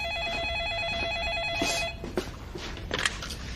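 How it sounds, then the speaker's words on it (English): A landline telephone ringing indoors at a country inn, a rapid warbling electronic trill that repeats for under two seconds and then stops, followed by rustling and handling noise as the receiver is picked up. "Honey, will you grab the phone, please?"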